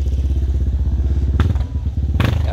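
A 2010 Kawasaki 250 enduro motorcycle idles close by with a fast, loud, steady thumping pulse, briefly blipping the throttle twice with sharper crackling bursts.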